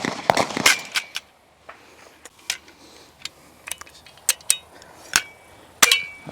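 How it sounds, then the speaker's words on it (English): Rifle fitted with a Barwarusa Alpha rail dropped with its dust cover open, giving a few sharp metallic clanks and rattles early on, followed by scattered clicks and knocks, close and dry with no talk. "I feel like dropping the gun with the dust cover open is a bit much, but we'll do it one time."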